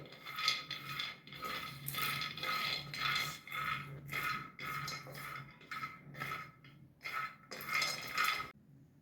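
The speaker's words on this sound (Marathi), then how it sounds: "आता आपण कढईमध्ये शेंगदाणे भाजून घेणार आहोत" Peanuts roast in a metal kadhai, stirred in repeated bursts that give a close rattling, scraping clatter of nuts against the pan with short pauses between strokes.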